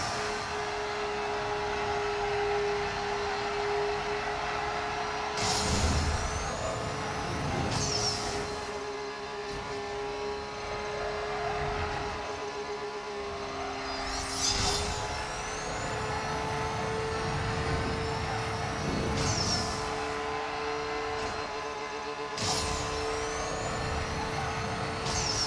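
Nissan Skyline 2000 GT-R drifting in NFS No Limits, a steady loud engine drone with repeated bursts of tyre screech and revving swells, continuous and close with no talk.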